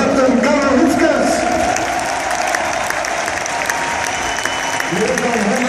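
Crowd applause for the captain, Karel Hoefkens, at a football club, sustained loud clapping with some cheering, while voices talk over it.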